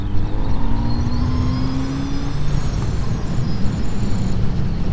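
A Kawasaki Z900 RS motorcycle fitted with bags overtakes on the road, its engine a steady loud drone with rising tones under heavy wind rush throughout.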